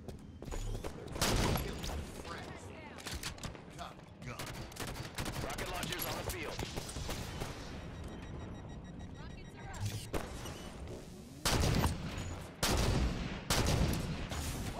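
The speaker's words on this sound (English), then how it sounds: "Oh my god, I missed all those shots." Rapid gunfire in a Halo 5 Arena match, dense bursts and sustained fusillades with louder volleys near the end, mixed with game sounds while players talk throughout.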